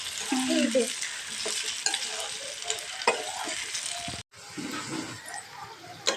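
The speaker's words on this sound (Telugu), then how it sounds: "బంగాళదుంపలు అయితే ఫ్రై అయిపోయినాయండి" Potatoes frying in a pan, with a steady close sizzle and occasional scraping as they are stirred. A momentary silent gap breaks the sound before the sizzling resumes.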